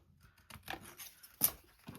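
Scissors snip through fabric or paper in a few quick, close crisp cuts while making a picket fence pocket craft, with soft handling rustle between the cuts and no talk.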